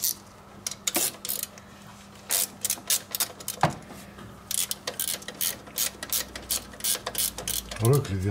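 A ratchet wrench clicking in quick bursts during drive-belt work on a SYM 300cc scooter, close and fairly loud, with pauses between strokes and a voice briefly at the end.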